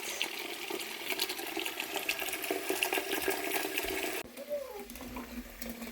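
Water from a tap runs steadily into a large juicing pot, filling the bottom pan with about 2 gallons; the pour is close and continuous, then changes tone as the stream shifts near the end.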